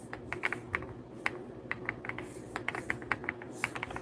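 Quiet, brisk clicking of keys on a computer keyboard as names are typed, irregular tapping bursts close to the microphone with a faint room hum underneath and no talk.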